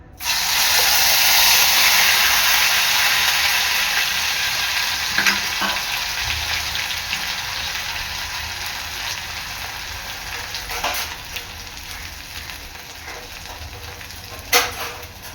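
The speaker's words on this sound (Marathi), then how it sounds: "वाटण चांगलं तेलावर परतून घ्यायचं आहे" A green masala paste of coconut, ginger, garlic, green chili, coriander, coriander seeds and black pepper fries in hot oil. It gives a loud, hissing sizzle that eases slightly over time, with a few faint clinks of stirring nearby.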